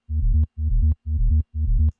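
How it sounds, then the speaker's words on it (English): Sub bass synth patch built from a triangle wave layered with a rounded square-sine wave, high end filtered off, playing four loud, evenly spaced sustained notes with short gaps between them, alone without talk. "I am just using a simple patch with a triangle wave and then this rounded kind of squarey siney wave"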